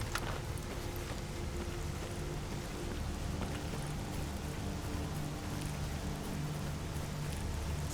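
Steady rain falls across an in-game outdoor scene in S.T.A.L.K.E.R. Anomaly, a constant even patter of drops with occasional faint distant rumbles and no voices.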